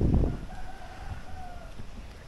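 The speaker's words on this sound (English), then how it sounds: "Can you hear the roosters?" Roosters crow on the outskirts of a village along the Salkantay trek in Peru, with a drawn-out crow and a second answering call heard at moderate distance after a brief thump of handling noise.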